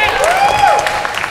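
An improv audience at an open stage show applauds briefly in a steady patter of clapping, heard alongside a voice and a whistle-like squeal.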